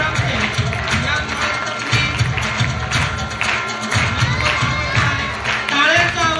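A crowd at a college beauty contest applauds and cheers for the best model award winner, dense clapping with high shouts and whistles throughout while voices call out over it.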